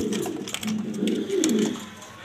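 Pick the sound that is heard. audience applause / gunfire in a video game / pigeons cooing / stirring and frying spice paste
pigeons cooing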